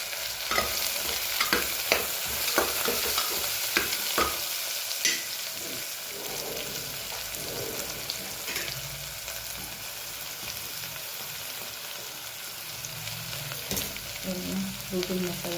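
Mustard seeds, cumin and hing fry in hot oil, giving a loud steady sizzle with sharp crackles and a spoon stirring and scraping the pan throughout.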